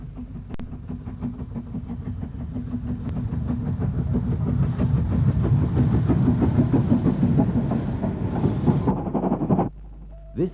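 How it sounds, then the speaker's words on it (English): BR Standard Class 4 steam locomotive: a steady, loud rumbling rush with rapid rhythmic chuffing texture and rail clatter, continuing for several seconds before cutting off abruptly. "A BR Standard Class 4 locomotive."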